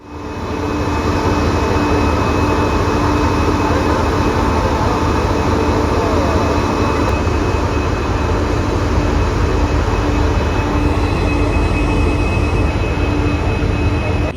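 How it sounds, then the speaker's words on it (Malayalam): A loud, continuous train engine drone fills the air as the Gol Gumbaz Express prepares to depart, steady and unbroken like an idling locomotive, with a constant hum throughout. "ഗോൽ ഗുംബസ് എക്സ്പ്രസ് ഇവിടെ നിന്ന് പുറപ്പെടാൻ പോവാണ്."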